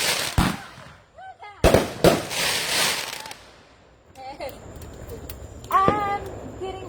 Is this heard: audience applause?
no